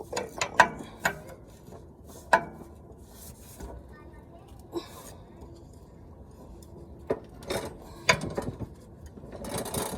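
A ratchet wrench works on an O2 sensor of a 1999 Chevrolet Tahoe, giving short bursts of close metallic clicking pawl sounds spaced irregularly, with quiet pauses between pulls.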